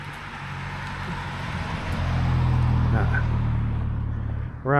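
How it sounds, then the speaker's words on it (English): A car passing on a road at night near Charlotte, Michigan, its engine hum swelling steadily louder and fading, with a voice speaking briefly at the end. "We'll let this car pass here"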